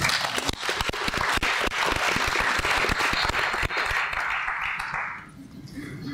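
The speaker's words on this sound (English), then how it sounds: "I definitely think that deserves a round of applause." Audience applause at a leadership conference rings out dense and steady, then thins and fades out over the last second.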